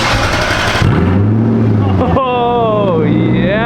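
A straight-piped 4-liter Lexus SC400 engine revs loudly and close by, its pitch sweeping up and falling back in several rising and falling pulls, with people talking over it.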